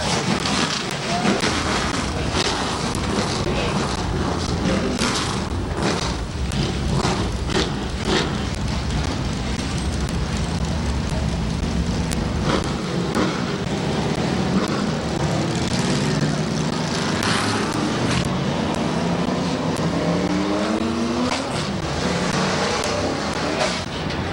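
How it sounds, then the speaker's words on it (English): Sixteen modified race cars start their engines at Midvale Speedway, a dense, loud, continuous roar of many engines revving and rumbling together over a crowded outdoor racetrack. "16 Canton Drop Forge Modifieds on the Speedway. Drivers, start your engines."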